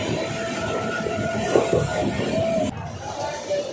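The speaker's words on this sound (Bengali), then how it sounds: "যেখান থেকে আমরা ট্রেন ধরে হাওড়া স্টেশন যাব" Rumbling rail ambience around a train bound for Howrah station, a steady low drone with a brief squeal and faint crowd murmur, cutting to a quieter scene partway through.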